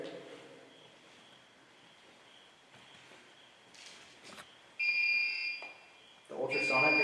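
A motion detector beeps during a nighttime paranormal investigation on a mountain, giving steady high electronic tones that come and go in the second half, nearby and fairly loud over quiet room noise with faint talk.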